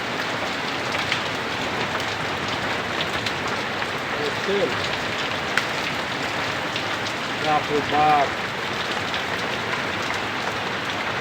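Heavy rain mixed with hailstones pours down outdoors, a constant loud drumming hiss with brief voice-like sounds surfacing partway through.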